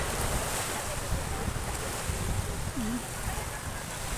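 Surf washing along the seashore of Boracay beach, a continuous broadband rush heavily mixed with wind buffeting the microphone, steady and fairly loud with no clear individual wave breaks.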